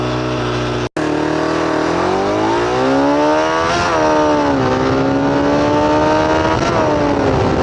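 A motorcycle engine revs hard in one last loud blast, its pitch climbing and holding in a strong, steady roar, with a brief cutout near the start.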